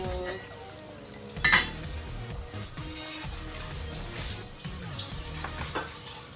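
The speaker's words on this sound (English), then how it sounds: "ilagay po natin yung sinigang mix" Pork sinigang soup being made in a pot, with a sharp clatter of packet or utensil against the pot, then soft stirring and metallic kitchen clinks, fairly close, no talking.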